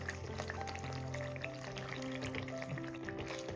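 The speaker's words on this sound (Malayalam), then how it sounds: "ഒന്ന് ഇളക്കി കൊടുക്കാം." Ground green gram paste cooks in a pan, with a faint, close bubbling sizzle and light stirring sounds, over a low background hum and no talk.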